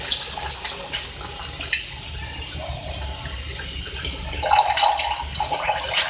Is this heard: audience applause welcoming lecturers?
no